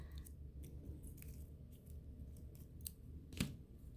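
Scissors cutting artificial greenery, a series of quiet, close snips at irregular intervals over faint background hum.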